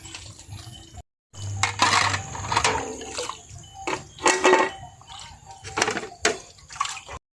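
Dishes being washed by hand, with running water splashing and clinking plates and utensils in bursts, close and fairly loud.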